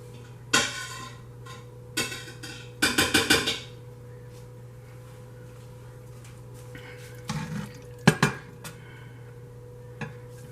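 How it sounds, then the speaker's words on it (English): Broccoli, cheese, rice and turkey casserole being spooned into a casserole dish, with several clattering spoon knocks and scrapes, including a quick burst of taps, over a steady low hum; no voices. "so now we're going to put it in a casserole dish"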